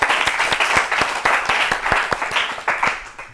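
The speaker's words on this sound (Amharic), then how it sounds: "አጨብጭቡላቸው ለሁለቱም።" An audience applauds two children's quiz contestants with brisk, fairly loud clapping, a steady run of sharp individual claps that fills the whole stretch with no talk over it.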